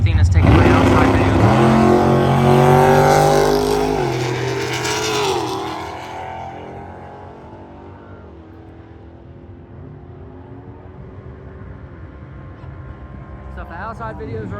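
A race car roars loudly at a racing event, its engine rising in pitch as it passes close by and then fading to a distant drone, with people talking over it.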